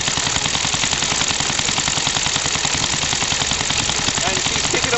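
A Suffolk steam car engine runs on compressed air with no boiler pressure, giving a fast, even, rapid chuffing beat that holds steady and loud throughout.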